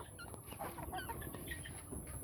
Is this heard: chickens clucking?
yes